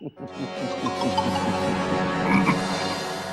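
Frogs croak loudly and continuously in a dense, rattling chorus, close up and sustained throughout.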